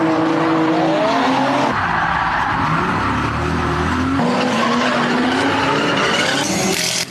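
Cars drift at a charity motorsport drift show, with engines roaring at high revs and tires squealing and skidding loudly and continuously, the pitch shifting as the cars slide.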